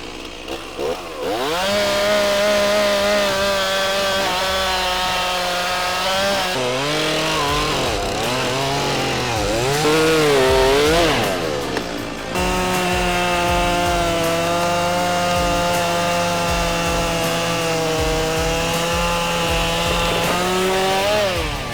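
Chainsaw cutting wood, a loud close engine drone that holds steady then revs up and down while biting into the log, running continuously throughout.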